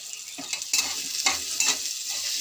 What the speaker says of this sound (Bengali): এবার আমটা ভালো করে ভেজে নেব।